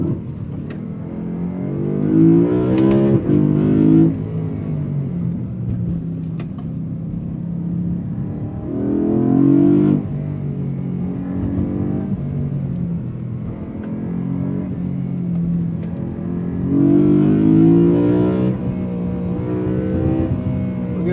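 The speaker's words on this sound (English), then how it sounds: "Listen to that. S54 wail away." A BMW E92 M3 with the S54 engine wails as it drives, the engine note rising through several strong pulls with steady cruising between them, heard from inside the car with no talking.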